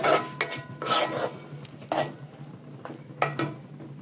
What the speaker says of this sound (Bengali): এজন্য আমি ঘন ঘন এটি সুন্দর করে নেড়ে দিচ্ছি।